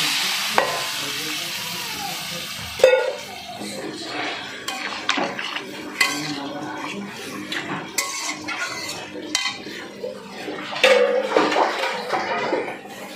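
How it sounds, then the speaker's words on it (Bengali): Water splashes into a hot pan of papaya and prawns, bursting into a sizzle that keeps crackling and bubbling, mixed with clinks of a spoon stirring against the pan and occasional sharper knocks. "এবারে আন্দাজ মতো আমি জল দিয়ে দিচ্ছি।"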